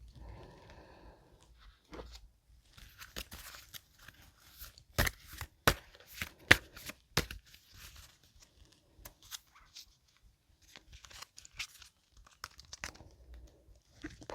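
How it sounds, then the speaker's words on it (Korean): Tarot cards shuffled and drawn, with a dense run of crisp card snaps and flicks in the middle, then scattered light rustles and taps, close and quiet. "추가 카드를 통해서 조언의 카드 한 장 보도록 하겠습니다"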